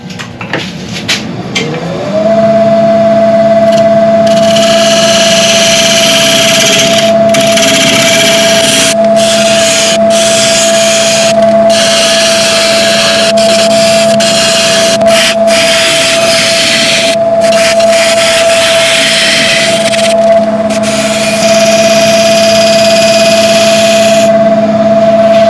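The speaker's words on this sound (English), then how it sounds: "going to switch over to my 3/8 inch gouge to do this with" A wood lathe spins up and runs steadily with a loud, constant motor whine while a 3/8 inch gouge cuts into a burl blank, producing repeated scraping and cutting bursts close up throughout, with no talking.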